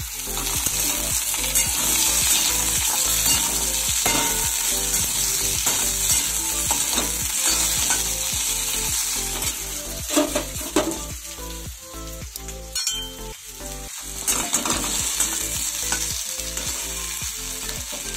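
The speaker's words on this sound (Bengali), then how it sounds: "তো দেখো আলুগুলো ভাজতে শুরু করে দিয়েছি।" Potatoes frying in oil in a home kitchen pan, a steady loud sizzle running throughout with frequent stirring scrapes and clatters, no voices.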